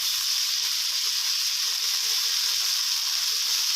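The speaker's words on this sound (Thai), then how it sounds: "ค่อยๆผัดไปนะครับ" Glass noodles and naem, Thai fermented pork, are stir-fried in a pan with fish sauce, giving a steady, loud sizzling hiss that holds without a break.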